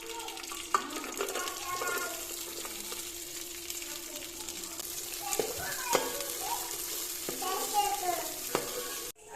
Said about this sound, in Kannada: ದ್ರಾಕ್ಷಿ ಗೋಡಂಬಿ ಇಷ್ಟು ಫ್ರೈ ಆದಮೇಲೆ ಎತ್ಕೊಳ್ಳಿ